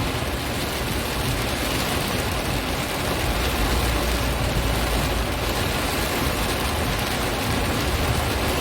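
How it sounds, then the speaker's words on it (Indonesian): Heavy rain pours down at Palembang airport in a dense, steady roar of broadband hiss, unbroken and loud throughout with no voices. "Kondisi hujan deras"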